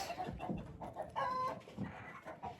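Several hens clucking close by in short, uneven bursts, one drawing out a longer squawk, with no talking.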